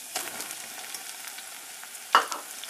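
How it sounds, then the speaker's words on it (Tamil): Chopped brinjal and drumstick sautéing in hot oil in a pan for a dried-fish curry, a soft steady sizzle with a brief stir or clink near the end, no talking. "கத்திரிக்காவும் முருங்கைக்காவும் கொஞ்சம் லைட்டாக வதங்கட்டும்"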